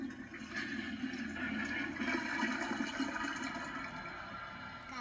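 A toilet flushes in a home bathroom, a continuous rushing swirl of water that holds steady for several seconds without any talking over it.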